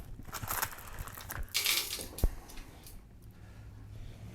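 .22 LR rounds are pressed one by one into a Glock 44 magazine, heard as close, irregular clicks, scrapes and handling noises without any speech.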